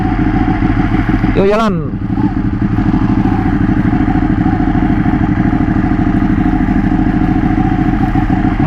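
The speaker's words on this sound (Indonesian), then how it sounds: "suara blayerannya bro" A Ducati Panigale 1199 Tricolore sport motorcycle engine runs loudly and steadily close by, with one brief rising rev near the start, while someone speaks over it.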